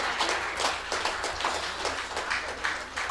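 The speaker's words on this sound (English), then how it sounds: "A big round of applause." Audience applause at an awards event, a fairly faint, steady patter of many hands clapping with a few louder pulses, continuing throughout without speech.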